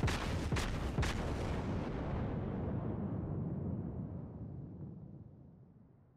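Battleship main guns fire in World of Warships: a few sharp booming salvos at the start roll into a long, heavy rumbling decay that slowly fades out over several seconds.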